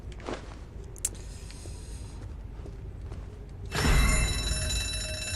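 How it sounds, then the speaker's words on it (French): A door alarm in the video game ZombiU sets off abruptly partway through, a loud, steady, multi-tone electronic ringing that continues to the end after a quieter stretch of faint clicks and footsteps. "Merde, la porte était reliée à l'alarme."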